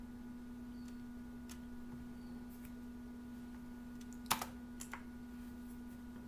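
Keys clack faintly on a computer keyboard during Excel data entry over a steady low electrical hum, with one sharper keypress near the end like Enter followed by a few lighter taps.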